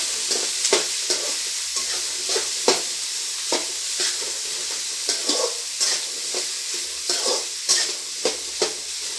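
Boiled chickpeas frying in a pan, with repeated sharp scraping strokes of stirring over a soft sizzle, close and fairly loud, the stirs coming in an irregular rhythm.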